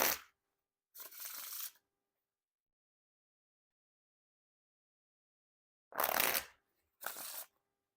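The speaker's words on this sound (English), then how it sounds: "Now time for the riffle shuffle or bridge shuffle." Riffle shuffling of a Bicycle Dark Mode playing card deck, heard close and alone as four short bursts of rapid riffling separated by silences.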